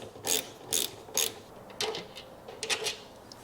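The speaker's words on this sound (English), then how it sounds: "remove these two 10mm bolts." A hand ratchet clicks in short quick bursts while loosening 10mm bolts holding the fuel tank of a Royal Enfield Himalayan motorcycle; close, fairly quiet, about six separate clusters of clicks with pauses between.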